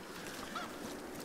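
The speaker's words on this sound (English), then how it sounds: "I got the damn chicken." A chicken in the video game Tomb Raider (2013) gives a short honking cluck, brief and moderately clear over steady game ambience.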